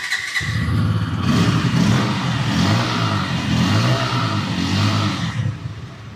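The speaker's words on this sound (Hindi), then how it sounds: "इसका इंजन साउंड अपन लोग सुन लेते हैं" A Bajaj Pulsar N160 motorcycle engine idles close by with a deep rumble, then revs up and down a few times before settling.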